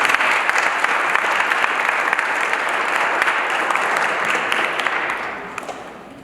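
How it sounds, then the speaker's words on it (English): A reading-circle audience claps steadily at a book publication celebration, a dense, sustained round of applause that fades toward the end. "Give a round of applause"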